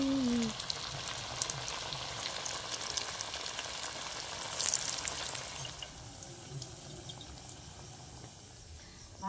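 Puffed rice snacks deep frying in oil over a low flame, giving a steady, close sizzle and crackle that holds for the whole stretch and eases slightly toward the end.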